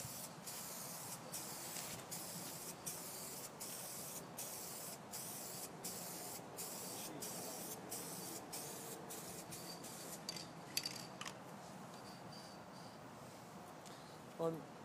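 Spray paint goes on as a second coat in a run of regular hissing bursts, each a short even spurt repeated at a steady pace, with faint talk near the end.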